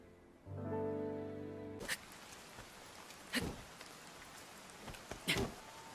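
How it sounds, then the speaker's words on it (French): Rain falls steadily in a cutscene from The Legend of Zelda: Age of Calamity, a soft, even hiss that follows a brief tonal chime, with a few louder splashing hits scattered through it. "La pluie n'a pas l'air de vouloir s'arrêter."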